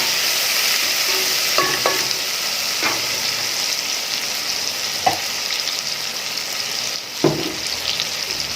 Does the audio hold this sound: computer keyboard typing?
no